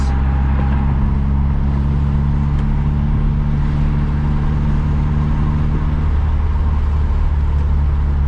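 A lowered turbocharged second-generation DSM car drives along with a steady, loud low engine drone and road rumble that continue throughout, with no voices.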